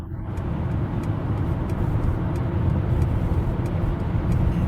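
A Mercedes-Benz EQS 450+ electric car pulls out on a road, heard as a quiet, steady rolling tire and road rumble with a soft electric hum and faint ticking, no voices.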